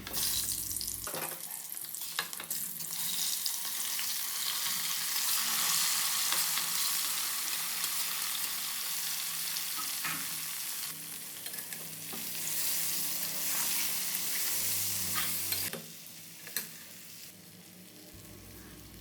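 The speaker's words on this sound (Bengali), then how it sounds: "আমি এটা একটু ভেজে তারপরে হচ্ছে জলপাইগুলো দিয়ে দিচ্ছি" Garlic fries in a pan, then olives are added and stirred for an olive pickle. A steady, fairly close sizzle runs with scraping stir strokes, swelling into brighter bursts toward the end.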